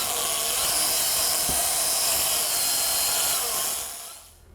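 An electric drill fitted with a beater whirs steadily as it mixes stiff Fat Head pizza dough, a close, even high-pitched hum that runs for a few seconds before winding down and stopping.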